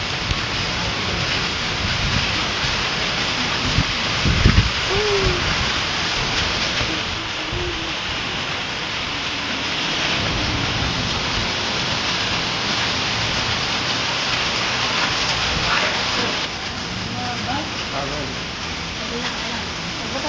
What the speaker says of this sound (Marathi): गारांचा पाऊस पडतो.